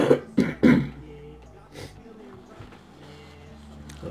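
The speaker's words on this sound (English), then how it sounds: "still have my cough" A person recovering from about a week of illness coughs and clears their throat in three quick, loud bursts, then a softer rasp follows amid quiet murmuring.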